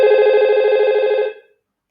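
An IP phone on a VoIP network rings after extension 1002 is dialed, giving a steady, loud electronic ring tone that holds for just over a second before cutting off into silence.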